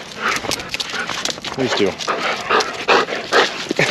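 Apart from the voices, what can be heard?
excited dogs greeting owner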